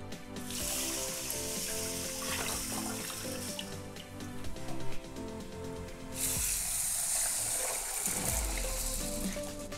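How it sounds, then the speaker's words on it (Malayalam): Water poured into a container of soaking urad dal for dosa and idli batter, a loud splashing gush running nearly ten seconds with a brief change of tone partway, close and with no talk. "അപ്പം ഞാൻ ഇതിനകത്ത് ഇനി വെള്ളം ഒഴിക്കാൻ പോവാണ്."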